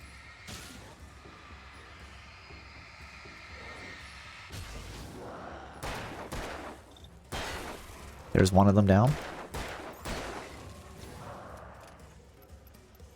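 Gunfire in the Alan Wake video game rings out in several sharp bursts, loudest near the middle, while someone talks over the action.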